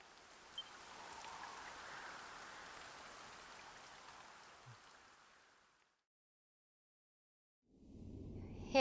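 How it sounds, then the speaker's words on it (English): Steady rain falling in the Dragon Quest video game, a soft continuous hiss for several seconds before cutting to silence, then resuming briefly at the end. "Lo, the rain doth fall"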